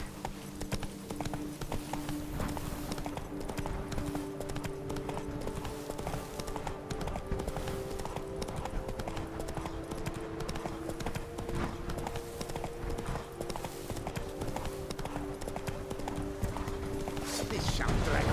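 Hooves of Roach, the horse in The Witcher 3, clip-clopping in a steady continuous rhythm throughout, loud and near, with talk over part of it.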